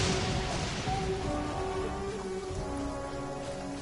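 Steady rain in a storm from the Genshin Impact video game, a dense hiss of falling water with a low rumble of thunder beneath and faint tonal game sounds, with no voices.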